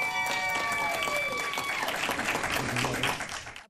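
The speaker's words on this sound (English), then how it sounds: "Applause indeed" Applause from a gathered audience at a Los Angeles city meeting on keeping film production in the city, a dense steady patter of clapping that thins out and fades at the end.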